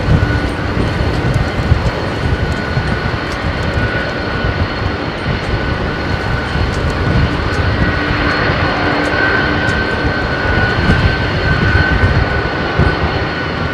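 Loud, steady jet engine roar with a whining high tone, holding constant throughout as a Boeing 767 powers up nearby, taking off from runway 27R at London Heathrow Airport.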